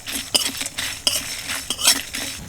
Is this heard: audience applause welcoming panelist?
no